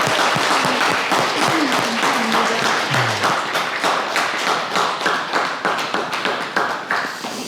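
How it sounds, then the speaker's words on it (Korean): An audience applauds steadily at a Buddhist prayer ceremony, many hands clapping in a dense, sustained wash that thins slightly toward the end. "큰 박수 부탁드립니다"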